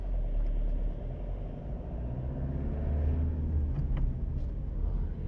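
Car pulling away from a junction in second gear during a driving-test route around Alcorcón and Móstoles, with a steady low engine rumble that builds slightly as it accelerates, heard from inside the cabin with no talk.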